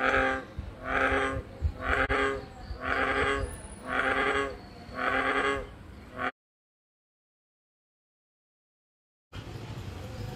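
Deep, resonant bullfrog croaks repeat in a steady series of about six calls, loud and close, followed by a silent gap and then faint background noise.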